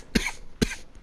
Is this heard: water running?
no